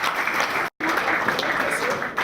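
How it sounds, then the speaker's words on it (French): Conference audience applauding a named attendee at a travel agency event, dense steady clapping that briefly cuts out for a moment before resuming at full strength. "On applaudit pour Joël."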